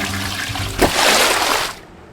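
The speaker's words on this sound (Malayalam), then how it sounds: "നമുക്ക് ശരിക്കും പറഞ്ഞ ഫ്ലഷ് അടിക്കാണ് വേണ്ടത്" A toilet flushing in the horror video game The Baby in Yellow, a short rushing gush of water that swells and then cuts off, heard close with no talk.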